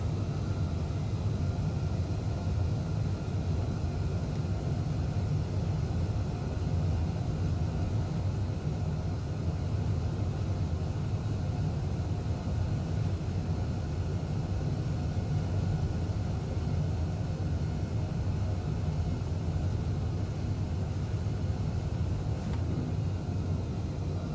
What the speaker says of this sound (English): Try and do a high performance takeoff.